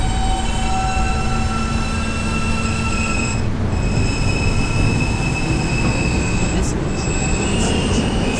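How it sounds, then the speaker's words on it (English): A westbound B subway train running on tracks, a loud steady roar with wheel squeal and whining tones throughout, and brief clicks near the end. "This is a Westpatah bound B train."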